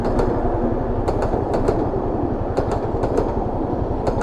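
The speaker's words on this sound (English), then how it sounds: "And the train is coming." A narrow gauge train rumbles by close at hand in the Bulgarian mountains, with a low continuous roar and irregular clicking wheel clacks over the rails.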